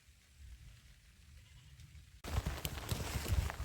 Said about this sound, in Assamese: ইমানেই বৰষুণ দিছে